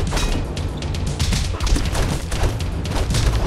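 Bombs going off in the Castle Crashers video game, a dense run of crashing blasts and impacts that barely lets up, loud and close, with a player's voice yelling over them.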